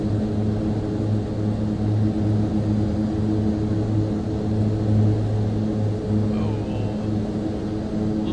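A propeller aircraft taking off in Microsoft Flight Simulator 2024, its engine a loud, steady droning hum with strong tonal harmonics and slight wobble, holding up close the whole time.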